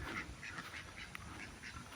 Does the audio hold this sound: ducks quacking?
yes